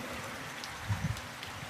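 Heavy rain falls during the rainy season outside a tea shop, a steady, soft, even hiss with a few faint low thumps, brief and fairly distant.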